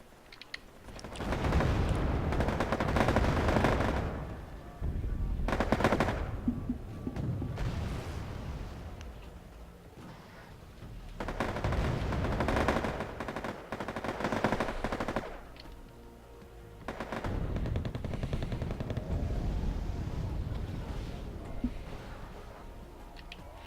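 Mortar and artillery fire from the military strategy video game Wargame AirLand Battle sounds as dense, rolling battlefield gunfire and booms. It keeps up in heavy waves, with short lulls between loud bursts.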